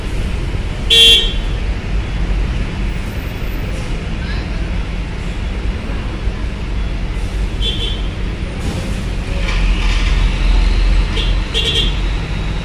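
Truck traffic fills the crowded Bakauheni port with a steady loud engine rumble, while several short horn toots sound at intervals over the din and faint voices come through now and then.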